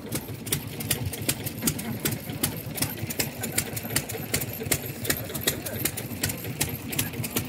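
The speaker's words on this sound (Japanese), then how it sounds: "セリカ 2000GT。" A classic Toyota Celica 2000GT idles at an outdoor car meeting, its engine ticking out a steady, rapid pulse under a constant rumble, with people chatting nearby.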